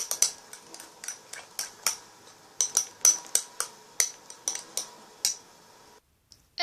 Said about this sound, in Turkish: Şimdi karıştırıyorum tekrardan.